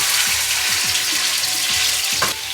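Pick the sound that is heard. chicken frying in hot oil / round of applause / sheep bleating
chicken frying in hot oil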